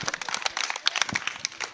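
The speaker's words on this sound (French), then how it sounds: "Applaudissez pour Ablaye Manga" Brief, scattered handclaps from a small audience on a Sous l'Arbre à Palabres broadcast, crisp individual claps over under two seconds.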